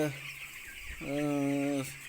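Broiler chicks on a poultry farm make a steady chorus of calls at moderate distance, with one louder, sustained call rising out of it near the middle.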